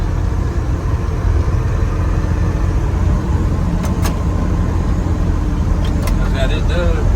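A 1965 Chevrolet C30 dually truck cruises at steady speed, its engine a constant loud low drone with road rumble heard from inside the cab, a few faint clicks near the end.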